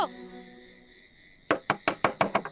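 Rapid knocks on a house door, about seven sharp raps in a quick uneven run, loud and near, following a sustained musical tone.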